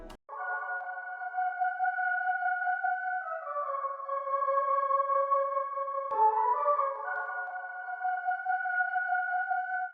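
A soft, sustained synth chord progression with a lush, washed-out chorus shimmer and reverb tail, shifting chords slowly; no voices.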